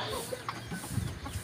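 A chicken clucks a few short, soft times close by, in a quiet setting with low background noise.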